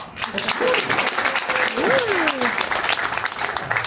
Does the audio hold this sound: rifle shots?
no